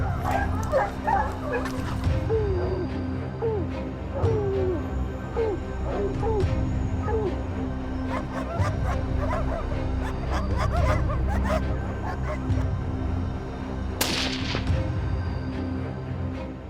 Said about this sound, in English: These dogs are highly trained to track and track lions in the most difficult terrain.